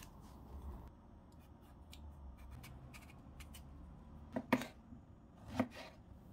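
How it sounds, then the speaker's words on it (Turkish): Eggplants being chopped into large pieces on a cutting board for a meat and vegetable casserole; faint, sparse knife cuts with two sharper chops near the end over quiet room noise. "Patlıcanları böyle iri iri doğradım."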